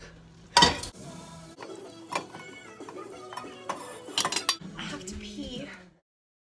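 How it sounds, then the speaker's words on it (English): Dry pasta tumbles into a metal pot for mac and cheese, with a loud rattling clatter at the start, followed by scattered clinks and scrapes of cookware and utensils before the noise fades out. "So now I'm going to put the pasta."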